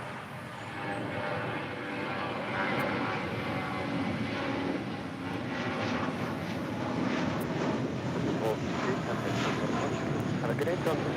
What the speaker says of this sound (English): The A320 now rolling down 25 right.